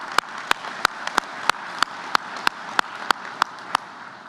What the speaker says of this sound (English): Let's give yourselves a round of applause for that work.